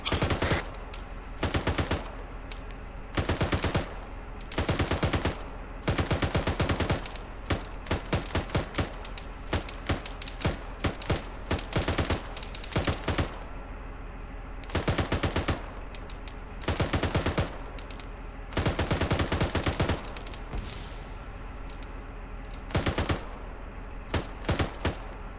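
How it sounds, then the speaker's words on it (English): Repeated loud bursts of automatic gunfire in the military shooter ARMA 3, sustained fire broken into short and long volleys with brief pauses, near and dominant throughout with no talk. "Just lay down some fire."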